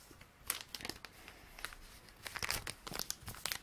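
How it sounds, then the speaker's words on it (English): Crinkly plastic wrapper of a bag of candy-coated milk caramels handled close up, giving irregular sharp crackles and rustles in quick bursts, alone with no talking. "Lovely crinkly pack."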